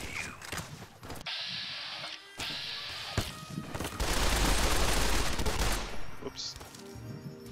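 Gunfire in Fallout: New Vegas, aimed with a game controller: bursts of shots and impacts build into a loud, sustained volley in the middle, with a brief spoken remark over the shooting.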